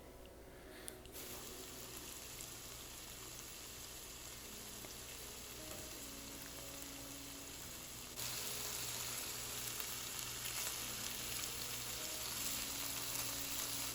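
Shrimp with chopped ginger, garlic and green chili sizzle quietly and steadily in a pan, a faint continuous frying hiss that grows a little louder toward the end.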